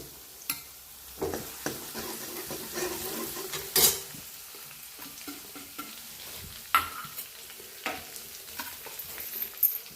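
Crushed garlic and cumin seeds frying in hot oil in a pan, a soft steady sizzle broken by scattered spoon scrapes and clinks as the mix is stirred, fairly quiet and close.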